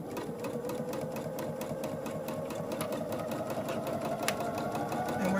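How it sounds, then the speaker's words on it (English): A sewing machine runs steadily, stitching a quarter-inch seam around a fabric face mask storage pouch, its rapid needle chatter close and continuous with a faint motor hum beneath and no speech. "We're going to use a 1/4 inch seam allowance, and we are going to stitch all the way around."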